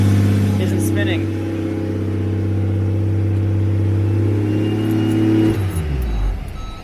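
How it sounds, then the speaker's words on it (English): A car engine revs high and steady at about 2,500 RPM while in drive, with the tail shaft not spinning, droning loudly and continuously before dropping off near the end; someone talks over it. "It's now revving super high"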